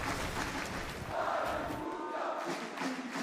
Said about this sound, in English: The crowd just constantly cheering for anybody on the MA or Havoc squads